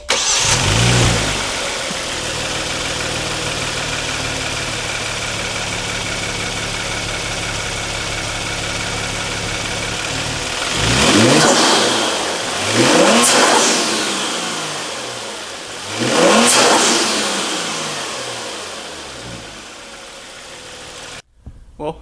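A Genesis G70 fitted with an AEM intake starts up loud and close, settles into a steady idle, then revs sharply three times, each rise and fall ringing clearly before the engine cuts off.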